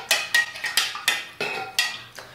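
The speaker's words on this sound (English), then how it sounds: "And you stir for 30 seconds" Close, repeated scraping clinks of a utensil stirring melted candle wax with fragrance in a container, about eight quick strokes in a steady rhythm, with no talk.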